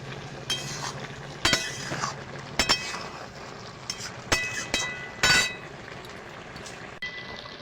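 Spoon stirring tilapia fish curry with onion in a metal pot, giving scattered sharp clinks and scrapes against the pot at irregular intervals over a faint background hiss.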